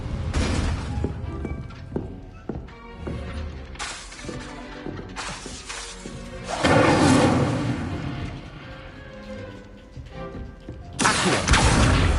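An Incendio fire spell is cast in the Hogwarts Legacy video game, producing loud crackling, shattering bursts of flame with rumbling booms, followed by quieter magical clinks and a final sharp burst.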